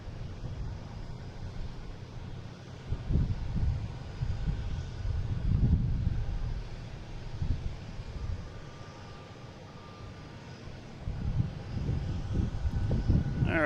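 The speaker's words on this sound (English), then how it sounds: "Next taking off is a Cape Air heading to Hyannis." A Cape Air plane takes off at Boston Logan International Airport, its engine a distant, steady drone that swells and recedes in waves under wind noise, with no voices.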